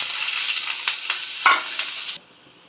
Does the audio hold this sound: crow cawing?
no